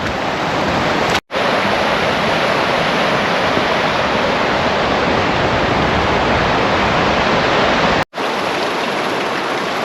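Cauldron Snout waterfall in heavy flow after heavy rain: a loud, dense, unbroken roar of rushing water, close and constant, with two brief cuts.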